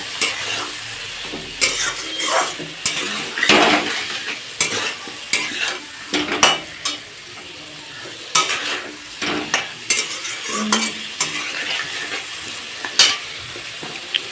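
Bone-in chicken pieces seasoned with salt and turmeric fry in a pan for a chicken curry, a steady sizzle broken by repeated scraping stirs and clinks of the utensil against the pan, with no voices.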